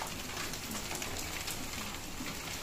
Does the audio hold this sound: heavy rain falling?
yes